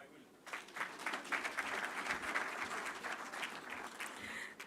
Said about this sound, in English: Let's do another round of applause for the comments from Mr. Jose Akili